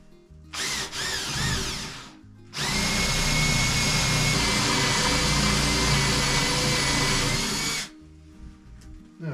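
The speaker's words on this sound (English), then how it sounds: "So I have a speed bit on my drill here." A power drill fitted with a speed bit bores into wood on a boat house door latch, with a short burst, a pause, then a long steady whining run of about five seconds before winding down, close and loud.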